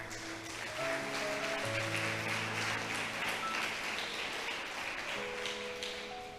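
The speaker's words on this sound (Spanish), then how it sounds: "¿Cuántos le aplauden al Señor?" Church congregation applauding during a sermon: faint, many-handed clapping continues steadily throughout while sustained organ or keyboard chords play underneath, the clapping blending into the music.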